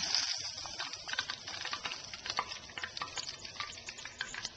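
Tempura batter fries in hot oil while a strainer stirs through it, a quiet, steady crackling sizzle with a flurry of small bubbling pops and occasional scraping swishes.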